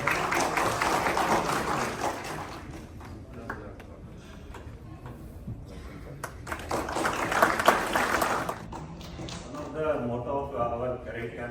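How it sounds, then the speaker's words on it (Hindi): Audience at a Central Bank of India event applauding to welcome the general manager: two fairly faint swells of scattered clapping in a hall, separated by a quieter lull, with some background voices. "तालियों के साथ स्वागत करिए"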